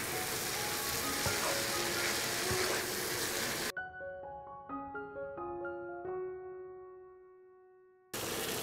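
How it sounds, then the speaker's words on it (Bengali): Lentils sautéed with spices in a pan give a steady, close sizzle, cut off midway by a few seconds of soft melodic chime notes before the frying hiss returns. "ডালটাকে আমি নেড়ে চেড়ে 2 মিনিটের মতো কষিয়ে নিয়েছি।"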